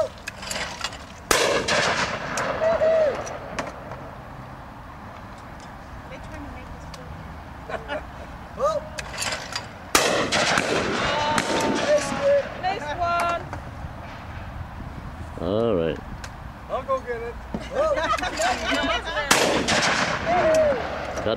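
Shotguns firing at an outdoor clay pigeon shoot in Halifax, UK: several loud, sharp single blasts spaced seconds apart, each echoing briefly across open ground, with people talking and calling out between shots.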